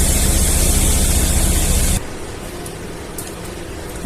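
Onions and chilies frying in a small amount of oil sizzle as a loud, steady hiss for about two seconds, then drop to a quieter, continuing sizzle.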